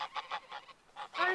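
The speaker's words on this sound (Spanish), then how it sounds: "Esos gansos no son míos" A small flock of geese honks in a rapid series of nasal calls, quiet and somewhat distant, with no voices.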